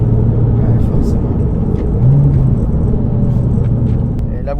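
A Porsche 911 996 Turbo engine drones heavily from inside the car while driving, a loud steady low rumble with slight rises in pitch, under voices talking.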